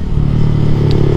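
A Yamaha MX King 150 motorcycle engine runs at a steady idle, its low, even throb holding close and loud throughout with faint mechanical clatter on top.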